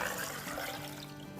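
Water pours into a blending jar already holding yogurt in a soft, steady, faint stream, no voices present.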